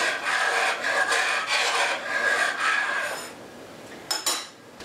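Dry macaroni rattles and rasps steadily as it pours into a metal pot, then tapers off, followed by a couple of light clinks.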